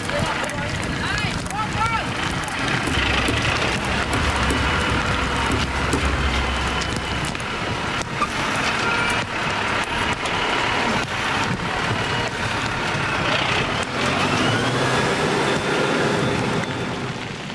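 Steady rain pours down outside a farm in Kägiswil, a dense, continuous hiss of drops on surfaces, with people talking over it throughout.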